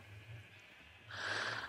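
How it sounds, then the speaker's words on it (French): Sheep bleating in the Minecraft video game, a single loud bleat rising over a quiet ambient game background near the end. "quelle galère ces moutons"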